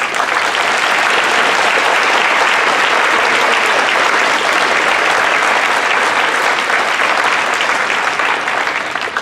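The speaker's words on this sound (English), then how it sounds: "give a round of applause to the exemplary CEAT staff who pulled this off" Sustained, loud round of applause from a Hall of Fame ceremony audience for the event staff, dense steady clapping filling the room without letup.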